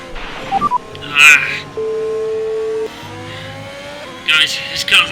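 A Formula 1 race car engine in the F1 2021 video game at the Hungarian Grand Prix drones as a steady high tone, with blips and chirps around it, while a voice talks over it.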